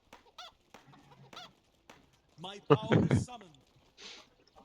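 A man imitates a chicken with his voice, giving a few short clucking calls and then a louder squawking burst, close and fairly clear against a quiet background.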